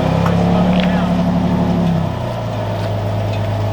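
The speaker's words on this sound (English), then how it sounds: "we start to crawl up this hill now. So that's crawl control right now." A Toyota off-road vehicle creeps uphill in crawl control, its engine giving a steady low drone that drops slightly partway through, with the rumble of the drive close and continuous.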